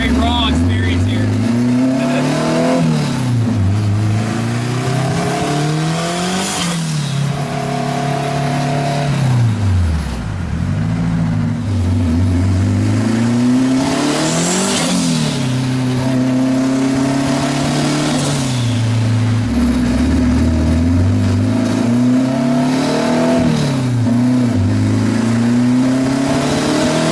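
A 600-horsepower Honda-powered Smart Car revs hard under throttle, its engine note climbing and falling in repeated loud pulls with a raw, buzzy harmonic tone, heard close up from inside the car.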